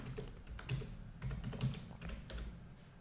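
Computer keyboard keys click in quick, uneven bursts as a search is typed, close and fairly quiet, with no voice.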